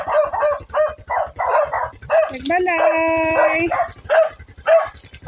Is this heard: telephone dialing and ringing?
no